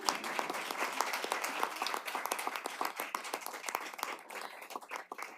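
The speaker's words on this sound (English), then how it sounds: "You can go ahead and clap." An audience at a city council work session applauds awardees with steady, fairly faint clapping that runs throughout before thinning toward the end.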